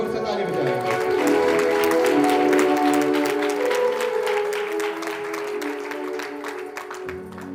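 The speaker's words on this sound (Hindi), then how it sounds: "जोर से ताली बजाएं।" A congregation claps at a church wedding ceremony, with loud, brisk applause that gradually thins out over several seconds while a voice and faint musical tones carry on underneath.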